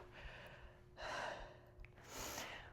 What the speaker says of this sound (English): I apologize for any heavy breathing you might hear